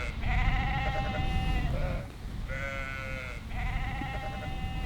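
Sheep bleat nearby in several long, wavering calls separated by short pauses, over a low rumbling background.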